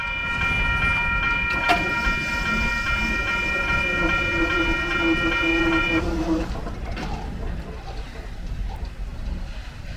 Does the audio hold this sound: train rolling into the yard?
yes